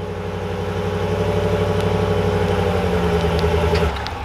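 A 2020 Ram 1500 pickup with a 5.7-liter Hemi V8 idles after a remote start, a steady, close, rumbling drone with an even low throb that holds for several seconds before easing slightly at the end.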